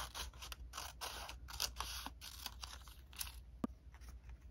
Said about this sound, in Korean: 가위 할 때 천천히 하세요.